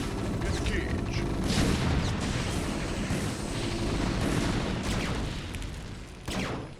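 Siege tank cannon fire in StarCraft: Brood War: heavy booming shots and explosions over a dense battle din, with a sharp blast near the end and a voice speaking over it.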